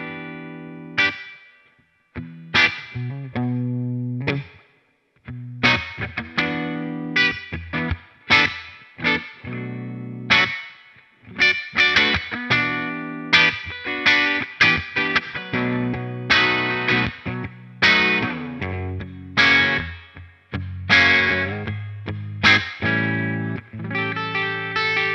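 A Gibson Les Paul Jr fitted with mini humbuckers plays through a clean amp, with strummed chords and picked riffs in an uneven rhythm, broken by short pauses, bright and close.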